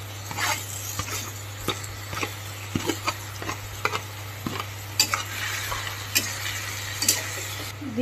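Taro flowers are stirred in a pan, with sharp scraping strokes of a utensil against the pan at an irregular rhythm over a soft sizzle and a steady low hum; no one speaks.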